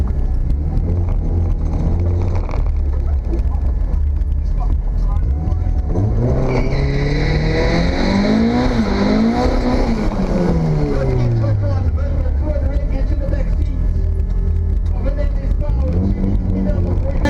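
Turbocharged Mazda 323 race cars with 4AGE engines roar loudly at a night race, with a rising and falling engine note sweeping past mid-clip over constant crowd and track noise.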